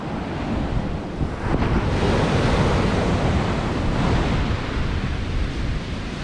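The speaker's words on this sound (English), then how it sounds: "Sometimes the waves come up all the way up to the chairs." Ocean surf rolls and crashes onto a beach on a cold, windy day, loud and close, with strong wind buffeting the microphone and no talking.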